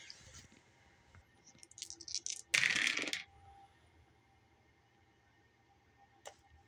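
Two six-sided dice and a scatter die clatter and rattle across a tabletop during a Bolt Action wargame, a short loud burst of tumbling clicks with a lone click shortly after.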